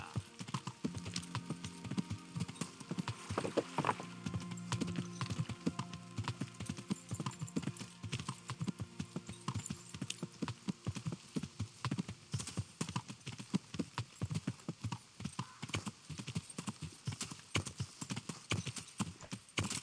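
Horse hooves clip-clop steadily along a road in Kingdom Come: Deliverance, a continuous rhythmic patter of hoofbeats at moderate volume under faint ambient noise, with no speech.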